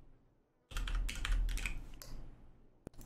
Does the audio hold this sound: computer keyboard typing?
yes